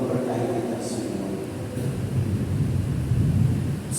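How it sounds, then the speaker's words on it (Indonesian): Steady rain falling with low rumbling thunder that swells toward the end, a continuous dense wash of noise with a brief higher rushing burst near the start and a faint voice beneath. "Semoga air hujan yang turun saat ini adalah air hujan yang memberkahi kita semua."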